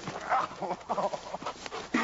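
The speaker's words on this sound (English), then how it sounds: "So what's it like to go up against these dogs?" Dogs barking in short, loud bursts that overlap one another in a busy, close mix, the yelps coming irregularly across the moment.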